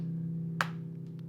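A single sharp clap sounding once over a steady humming musical drone, with a few faint softer taps after it.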